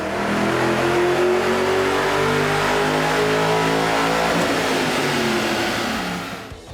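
A 3-valve Mustang GT engine on a dyno, running a 93 octane tune, revs loudly and continuously, its pitch climbing steadily through a sustained full-throttle pull before easing off at the end.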